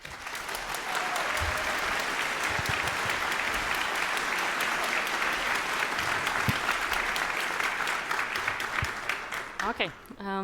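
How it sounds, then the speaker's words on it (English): A conference audience claps for the speakers, dense sustained applause filling the hall for about ten seconds before tapering off. "Please give them a warm applause."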